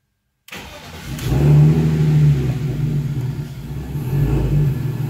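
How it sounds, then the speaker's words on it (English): A turbocharged BMW E46 cold starts after a brief silence, cranking into a loud, deep, uneven idle that lumbers and surges roughly throughout, running close and alone with no voices. "I'm going to try cold starting this thing"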